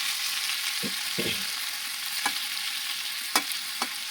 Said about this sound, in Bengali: তো দেখুন এখানে আমি ঢাকাটা খুলেছিল, একটা করে নাড়িয়ে নেবো।